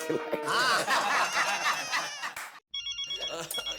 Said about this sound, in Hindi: जेठा तुम्हारे घर से फोन है